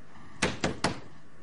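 Three sharp, loud bangs on a door come in quick succession, evenly spaced about a fifth of a second apart, followed by quiet.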